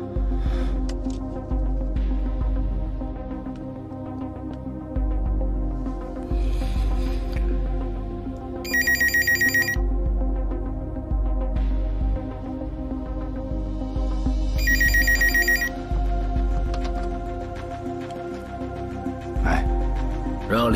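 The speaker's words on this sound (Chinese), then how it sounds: "李俊杰听电话" A telephone rings twice during a tense bomb-disposal movie scene, each electronic ring burst lasting about a second and separated by several seconds, over a low, droning film score.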